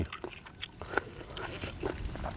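Crunchy bites into a spicy pounded sea snail salad, crisp outside and soft inside, eaten outdoors in a rice field; several close, sharp crunches scattered through a quiet, noisy background.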